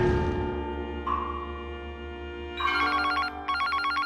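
Telephone ringing on a game-show stage, a steady electronic ring sounding in bursts that repeat over a low hum, loud and close with no talk over it.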